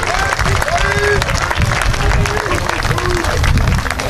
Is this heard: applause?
yes